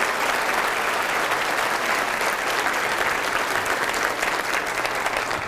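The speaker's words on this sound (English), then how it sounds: "Let's give our principals a round of applause for that work." An audience applauds school principals with steady, dense clapping that holds evenly for several seconds, loud and filling the room, with no voices standing out.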